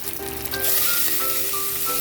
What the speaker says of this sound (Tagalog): Igisa muna natin yung ating puso ng saging.